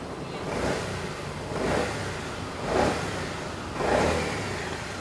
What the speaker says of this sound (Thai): เงียบนะเดี๋ยวผมเร่งเครื่องให้ฟัง